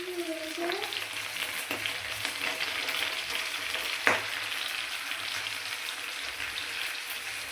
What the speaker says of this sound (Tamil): ஒவ்வொன்றா சேர்த்து நல்லா வதக்கிக்கலாம். வேர்க்கடலையும் போட்டுக்கலாம்.